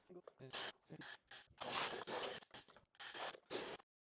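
Compressed air from a compressor blasts dust off a Chevrolet Suburban during mobile detailing, coming in repeated short hissing bursts of varying length with brief pauses between them, close and loud.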